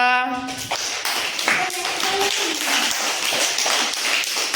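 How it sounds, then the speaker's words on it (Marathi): A group of first-grade children clap their hands together during a classroom activity, a run of sharp, fairly steady claps following a brief voice at the start. "व्हेरी गुड टाळ्या वाजवा"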